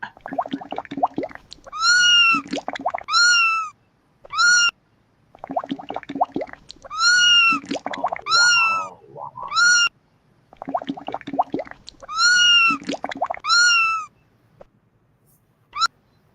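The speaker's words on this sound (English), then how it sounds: "kittens in a sink" Several kittens meow in a sink, high thin mews coming in repeated clusters of overlapping cries with short quiet gaps between bursts, close and fairly loud.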